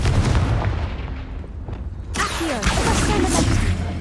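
A Confringo blasting curse detonates in Hogwarts Legacy with a loud, abrupt burst and a whooshing, crackling tail, ringing out over a rumbling game backdrop.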